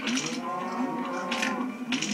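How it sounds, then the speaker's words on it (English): Minecraft cows lowing in a video game, several moos layered close together with steady animal calls filling the whole stretch and no talking. "All I can hear is cows and pigs crying."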